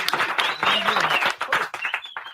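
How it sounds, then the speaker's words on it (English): An audience claps and cheers for LaTocha Scott in a morning radio show studio, a short burst of applause mixed with voices calling out. "Y'all give her a big round of applause."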